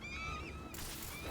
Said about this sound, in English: There are the birds.